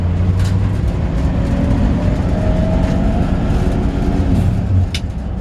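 A 1947 Ford truck's engine drones steadily while driving, heard from the cab as a loud, continuous low rumble with road noise, easing slightly near the end.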